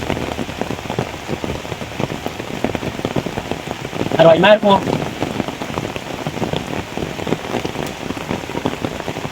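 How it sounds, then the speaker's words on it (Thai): Heavy rain pours down in a forest, a dense, steady hiss of drops drumming on leaves and surfaces; a brief spoken remark rises above it midway. "ตอนนี้ฝนตกหนักมากเลยครับ"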